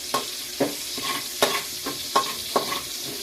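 Garlic and onion fry in hot cooking oil with a steady crackling sizzle, broken every half second or so by sharp scraping stirs of a spatula against the pan, close and clear with no talk.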